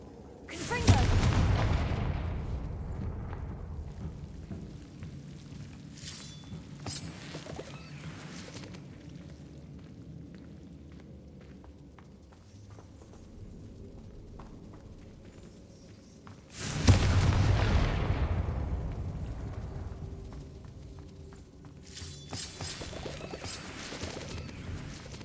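Confringo fire spells explode in Hogwarts Legacy during a fight with a hulking brute troll. Two heavy, booming blasts land about sixteen seconds apart, each followed by a long rumbling decay over quieter in-game background sound.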